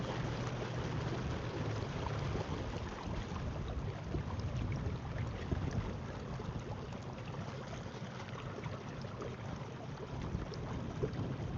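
Battery-powered boat motor at full throttle on open water, a continuous low rumbling drone with wind and water wash, steady and close, no talking.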